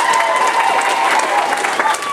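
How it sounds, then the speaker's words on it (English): A convention panel audience at Matsuricon 2012 applauds and cheers for a cake, a brief burst of loud, dense clapping with crowd noise. "A round of applause for a cake."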